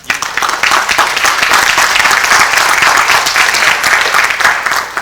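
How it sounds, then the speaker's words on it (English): Loud, sustained audience applause at a 2002 papermaking lecture, a thick wash of many hands clapping at once that holds steady for the full length. "But what I want you to do is give a nice round of applause to Carla Hammer"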